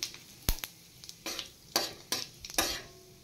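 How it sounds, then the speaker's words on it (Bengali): Whole cumin seeds and a bay leaf sizzling in hot oil, heard as a quiet hiss broken by several sharp scraping stirs and clinks in uneven bursts. "এবার তেলে আমি সামান্য একটু গোটা জিরে আর তেজপাতা দিয়ে দিলাম।"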